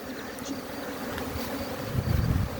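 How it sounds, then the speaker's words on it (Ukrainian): Honeybees buzzing around hive nuclei as they carry in pollen, a dense, continuous, close hum of many wings with a swell of louder buzzing near the end, no voices. "Пильцу носять, ну гул стоїть капець."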